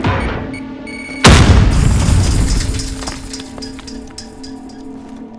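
A frag grenade goes off in Call of Duty: Modern Warfare as one loud, close boom. Crackling, rattling debris follows and slowly fades away.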